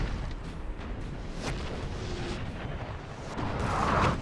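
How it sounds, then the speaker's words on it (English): Artillery fire in a Napoleonic Total War 3 battle rumbles as a continuous distant barrage of booms and thuds, with some louder blasts near the end. "Oh my gosh, look at the focus by that artillery."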